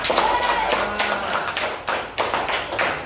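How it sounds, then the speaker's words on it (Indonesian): Schoolchildren in a classroom clap together for a classmate, a brisk, uneven patter of many small hands that swells and fades over a few seconds, with voices faintly underneath. "Tepuk tangan buat teman kalian"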